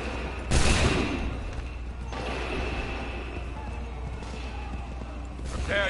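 Massed rifle volley in a PS4 video game, a loud burst of gunfire near the start followed by scattered shots and crackle under a busy battlefield din.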